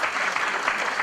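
Audience clapping at a Turkish classical music concert, a memorial concert by a university Turkish music ensemble; dense, steady applause fills the short moment with no voices.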